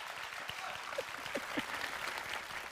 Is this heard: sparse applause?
yes